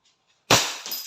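A Crosman SNR 357 airgun revolver fires a steel BB that shatters a glass target: one sudden loud crack midway, then a bright tinkle of breaking glass trailing off, with no talking.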